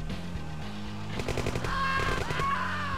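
Rapid bursts of unit gunfire in Command & Conquer: Tiberian Dawn, with repeated sharp volleys layered over a steady game backdrop and no talking.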